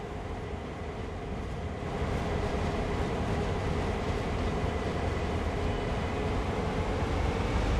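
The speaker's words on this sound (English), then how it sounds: "that other train is coming in the view over there" Train running in Train Sim World 2020 on the CN Oakville Subdivision, a steady broadband rumble of wheels and engine that swells slightly after the first couple of seconds and then holds constant, with no talking.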